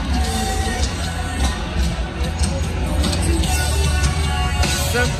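Dense crowd hubbub at the Fremont Street Experience in Las Vegas in 2021, on a concert night: loud, continuous babble of many voices with scattered yells and cheers throughout.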